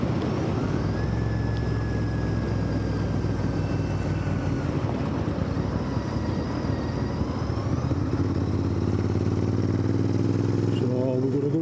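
Royal Enfield Interceptor 650 motorcycle riding along country lanes, its engine droning loud and steady throughout with wind rush and rising pitch as it accelerates near the end.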